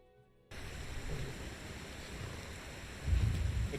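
Steady rain hisses throughout in Skyrim, with a low rumble of thunder swelling near the end; an ambient storm bed with no voices.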